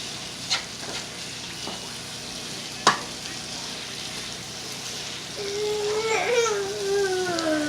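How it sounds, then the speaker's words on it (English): Seafood rice frying in a pan, a steady soft sizzle with occasional scrape or tap of stirring, then a louder crackle near the end as more is added, with a brief high whine over it. "I'm going to still fry my rice, and I'm just going to add this to it"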